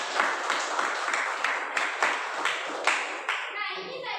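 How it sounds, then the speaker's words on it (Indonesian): A small classroom group claps in a loose, fairly even rhythm, close by, with the clapping trailing off at the end as a voice begins. "Boleh beri tepuk tangan untuk Naila."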